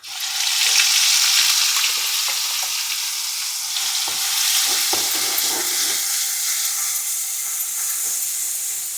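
Onion paste frying in a pan for an egg curry, a steady broad sizzle with scattered small pops and crackles that continues unbroken and fairly loud throughout, no voices.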